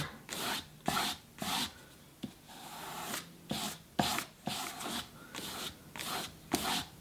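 A knife blade is stropped repeatedly across newspaper in rhythmic rasping strokes, about a dozen quick swipes, close and fairly quiet.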